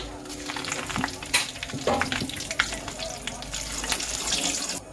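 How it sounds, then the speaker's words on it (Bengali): Dried red chillies and bay leaves sizzle in hot oil left from frying potatoes for a turtle-meat curry, a loud, busy crackle with scraping stir strokes and sharp spits. "আলু ভাজা তেলের মধ্যে এতে আমি এখন শুকনো লঙ্কা আর তেজপাতা ফোড়ন দিয়ে নেব।"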